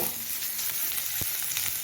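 Steady crackling sizzle of ingredients for ghugni frying in a pan, with an occasional scrape or clink of stirring, no talking.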